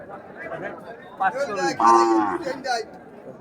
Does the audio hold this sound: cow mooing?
yes